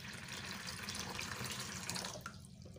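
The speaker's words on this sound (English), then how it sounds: "Pour the water into the bowl." Water poured into a bowl while making homemade liquid soap, a steady close splashing and trickling stream that tapers near the end.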